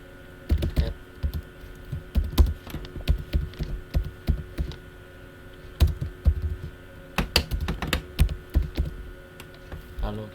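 Fingers type on a computer keyboard while entering Linux commands, bursts of quick clacking keys with short pauses between runs, close and clear over a low steady hum.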